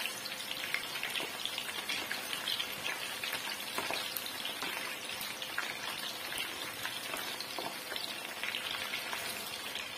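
Cauliflower florets fry in hot oil in a pan, a steady dense sizzle and crackle running throughout with occasional scraping from stirring, close and continuous with no talk.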